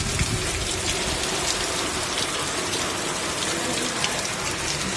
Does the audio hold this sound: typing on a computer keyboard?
no